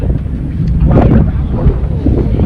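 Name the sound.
wind blowing by the river ferry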